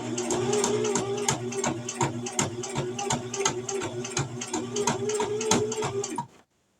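A sewing machine back-stitches fabric for a coffee cup cozy with a fast, even run of mechanical stitch clicks under a steady motor hum. It stops abruptly near the end, leaving silence.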